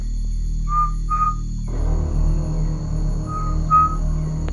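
A jungle bird called the fin-fin gives two pairs of short, clear, high whistles, fairly faint over a steady low hum and a humming drone.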